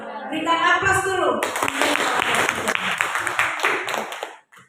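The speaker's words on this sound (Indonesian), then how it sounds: "Berikan aplaus dulu" A class claps together after a group presentation, broad many-handed applause bursting in after a short stretch of speech and staying full and steady before cutting off at the end.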